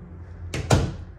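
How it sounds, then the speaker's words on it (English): Door in a newly redesigned triple-wide modular home opening with a short latch click followed by a louder thump of the door swinging, brief and close. "See what's behind this door."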